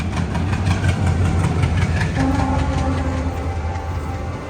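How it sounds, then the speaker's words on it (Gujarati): Loud rumbling of a train engine nearby at a station at night, with rhythmic clanking and a brief tonal hum as it rolls in and slows. "આપણી ટ્રેન અહીંયા આવી ગઈ છે."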